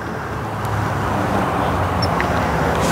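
A car approaches and passes along a rural road, a steady broadband roar of tyres and engine building slightly and holding loud throughout, with no talk.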